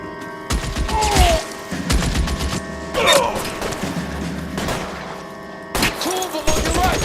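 Gunfire in the L.A. Noire video game, with several sharp shots and bangs spread across a few seconds over a steady background of game music and ambience.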